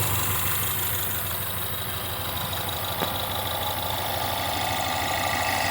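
A Ford Mustang engine with a cracked turbo pipe runs at a rough, shaking idle, giving a loud, steady rumble with a knocking vibration underneath, heard close up with no voices.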